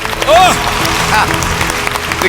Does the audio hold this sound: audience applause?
yes